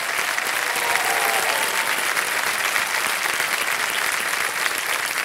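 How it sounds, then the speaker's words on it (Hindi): Studio audience applause for a contestant on the quiz show Kaun Banega Crorepati, dense sustained clapping that stays loud and even throughout with no speech over it. "ताली बजती रहे इनके लिए"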